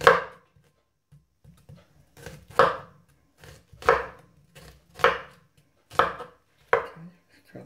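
A knife chops a white onion on a board in a home kitchen, giving about eight sharp, close strikes spaced roughly a second apart, with quiet scraping and handling between them and no talk.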